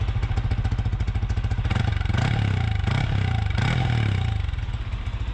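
A Yamaha Y16ZR motorcycle engine cranks and catches, then idles with a steady low thrum, revving up sharply a few times before settling back.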